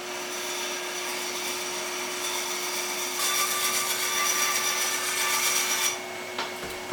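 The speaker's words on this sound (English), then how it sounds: "And then this shape I can get cut out on the bandsaw." An oak board fed through a bandsaw: a constant motor whine and whirring blade, with a louder rasping cut in the middle before it eases off near the end.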